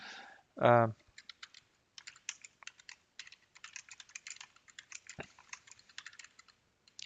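Rapid clicking keystrokes on a computer keyboard, close and fairly loud, in irregular bursts after a short tonal sound at the start, with no speech.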